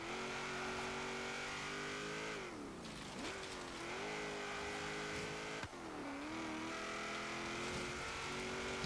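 A 1967 Chevrolet Corvette Stingray roars through a Forza autocross course, its engine held loud and steady at high revs, dipping twice as it lifts off and shifts before climbing back up, close and continuous with no talking.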